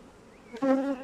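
Honeybees buzz loudly at an open hive during colony splitting, a faint hum swelling abruptly midway into a close, steady drone with a clear, sustained pitch.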